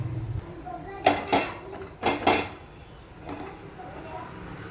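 Sweets drop into hot sugar syrup in a pot during festival cooking for Deepavali, with a few distinct metallic clanks and scrapes of a utensil against the vessel and a quieter clink toward the end.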